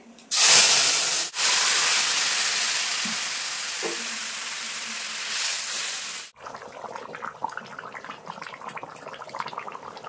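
Fish and potato curry with katla fish poured into hot oil tempered with cumin and a dried red chilli, giving a sudden loud hiss and steamy sizzle that holds for several seconds, then fades to gentle bubbling.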